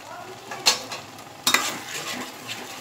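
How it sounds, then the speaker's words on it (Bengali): Ground spices, turmeric, cumin powder and salt, being stirred and fried in a pan for a spicy curry, two sharp scraping stirs of a utensil over a soft continuous sizzle, close. "এটা আমি আবার দু মিনিটের মতো কষাবো মশলাটা"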